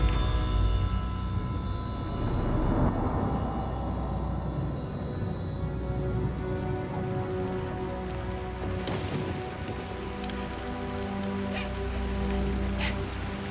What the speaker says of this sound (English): It's rainy season in the jungle.